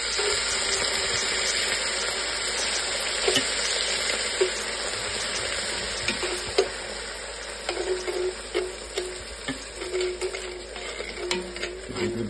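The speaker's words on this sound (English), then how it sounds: "Give that a little stir and add 2 cups of wine." Wine poured onto tomato paste in a hot pan while braising short ribs, giving a steady close sizzle and hiss with occasional stirring clicks and scrapes against the pan.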